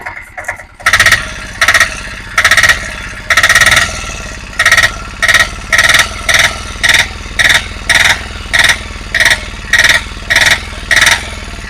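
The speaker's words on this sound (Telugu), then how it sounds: "ఇంజన్ స్టార్ట్ అయిపోయింది బాగా ఉంది" A Piaggio Ape auto rickshaw engine runs up close, chugging in loud, regular pulses after a brief start, the rhythm quickening slightly.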